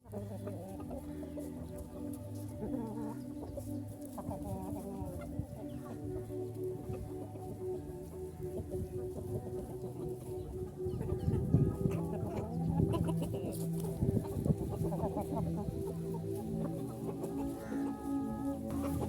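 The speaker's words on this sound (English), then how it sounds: "this is the one that started laying, and there's another brown chicken right there" Brown hens cluck steadily at a poultry farm while feeding, with overlapping calls from several nearby birds forming a continuous flock chorus and no talking.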